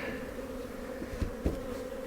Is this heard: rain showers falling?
no